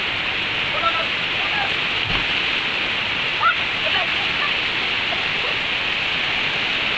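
A waterfall at Tagbibinta Falls in Maragusan pours heavily into a cold pool, making a steady, dense roar of falling water, close and constant, with faint brief sounds over it.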